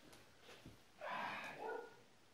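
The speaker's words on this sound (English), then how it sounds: "Now my dogs are barking" Two short, muffled barks come from dogs indoors, faint and somewhat distant, about half a second apart against a quiet background.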